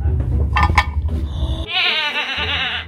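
A sheep bleats in a loud, wavering call in the second half, following a stretch of busy mixed sound; a parrot is nearby.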